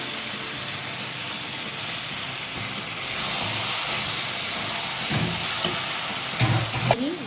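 Ginger garlic paste hits hot oil in a pan for a Bengali chitol fish curry. A steady sizzle jumps louder and brighter partway through, then brief stirring scrapes near the end.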